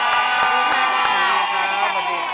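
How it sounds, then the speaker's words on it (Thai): Studio audience of a Thai children's TV show cheering loudly, a sustained crowd roar with children's shouts and whoops, close and continuous throughout. "ขอเสียงปรบมือให้กับคุณครูฝ่ายแน่ๆของเราทั้ง3ท่านเลยก็แล้วกันนะฮะ"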